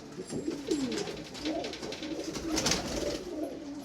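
Pigeons coo in a steady series of throaty, rolling calls, close and clear, with little else around them.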